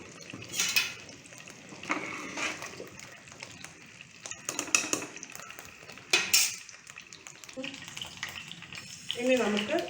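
Mustard seeds popping in hot oil in a pan while sambar is cooked, giving irregular light crackles and sizzling mixed with utensil clinks and stirring, with a person talking over it.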